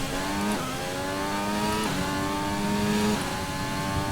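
A Formula 1 race car engine in the F1 2020 game, loud and continuous, with a high harmonic whine that climbs through the revs and drops sharply at each of several gear changes, steady and close without any voices.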